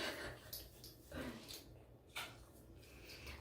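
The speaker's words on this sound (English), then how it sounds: "This is Gatsby, my dog" A pet dog whimpers softly and breathes with faint snorts and pants, a quiet close sound under low room noise.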